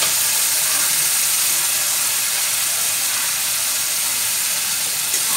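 Ginger paste goes into a hot cooking pan with coconut, giving a loud, steady, broad sizzling hiss that holds for several seconds without talk.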